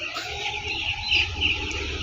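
Broiler chicks cheep and peep in a busy chorus, many small high calls overlapping against a low background hum.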